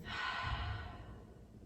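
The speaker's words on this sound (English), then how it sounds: "And exhale through the mouth" A single deep breath pushed out through the mouth during a yoga breathing exercise, a close, breathy exhale that gradually fades.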